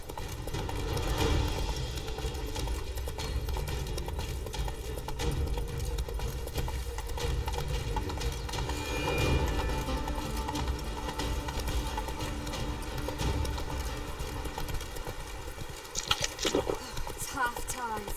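Hooves of Roach, a horse in The Witcher 3: Wild Hunt, clip-clop in a steady rhythm throughout, close and fairly loud over ambient game sound, with brief clattering near the end.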